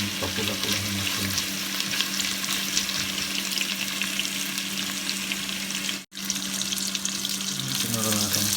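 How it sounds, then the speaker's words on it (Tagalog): Onions sauté in a pan with a steady, close frying hiss and a low hum, broken by a brief dropout, and the sizzle continues afterward. "Sinuro natin ang sibuyas. Pinamula natin."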